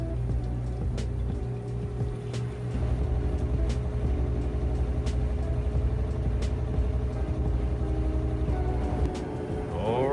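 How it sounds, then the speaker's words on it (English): A Samsung washing machine on its final spin cycle gives a loud, steady motor hum with a low drone, broken by faint periodic clicks, and the whine rises near the end as the drum speeds up. "I'll show you on the final spin with just a few minutes to go just how fast it gets going."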